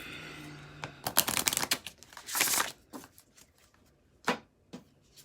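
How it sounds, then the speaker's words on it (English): A deck of reading cards being shuffled, with close riffling bursts and crisp slaps in several separate handfuls and quiet pauses between them. "I'm going to shuffle one more time"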